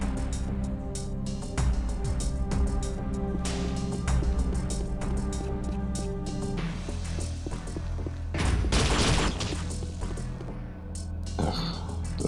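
In the video game Unreal: Return to Na Pali, the blob gun fires repeatedly. Its wet, thumping bursts blend with splashes, crashes and dense game noise at a loud, steady level.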